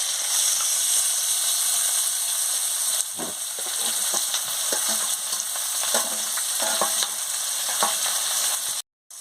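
Onions and bay leaf fry in hot oil in a wok with a loud, continuous sizzle, broken by scraping and clicking stirs, before a brief cut near the end.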